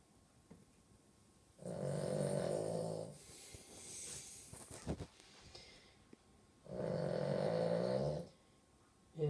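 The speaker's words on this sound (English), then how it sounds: "dog snores really loud." A dog snoring very loudly, two long rasping snores separated by a quieter pause with soft breathing and small sniffs.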